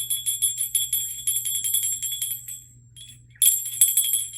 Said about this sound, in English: I might need to ring a bell